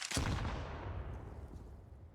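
A grenade goes off in a CS:GO match on Vertigo, one sharp blast with a rumbling tail that fades over a couple of seconds, fairly faint and distant-sounding, no voices over it.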